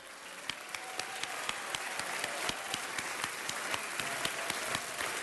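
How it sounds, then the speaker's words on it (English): Applause rises from an audience at an African American Heritage Month event, a steady dense wash of hand claps with a few sharper individual claps standing out, moderately loud and continuous throughout with no talk over it. "Let's give Carol a round of applause"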